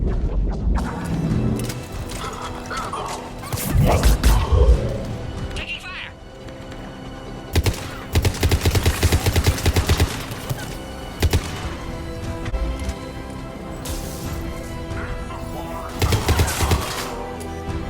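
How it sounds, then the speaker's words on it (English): Gunfire in a Mass Effect battle against Krogan, repeated bursts of automatic shots and heavy thuds mixed with game music, while characters call out over the shooting. "Taking fire!"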